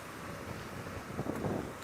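Open safari vehicle engine running during a sunrise game drive, a steady close rumble mixed with wind noise throughout, with no talking.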